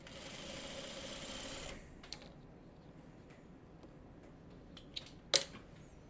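A sewing machine runs a short burst of stitching off onto a scrap piece after a quilt block seam, then stops, followed by quiet with a few faint clicks and a sharp snip-like tap.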